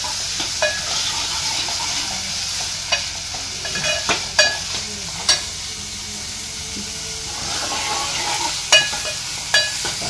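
Chopped onions sautéing in butter in a pan for Mumbai-style pav bhaji, a steady close sizzle and frying hiss with scattered sharp clinks and scrapes from a stirring spoon.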